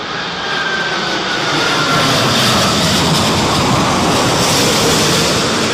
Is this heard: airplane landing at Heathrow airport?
yes